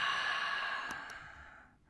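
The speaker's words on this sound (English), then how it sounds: "Let us all unite with a big inhale into the heart and exhale with sound." A single long, deep exhale with an audible breathy sigh, close and soft, trailing off over about two seconds during a tantra breathing exercise.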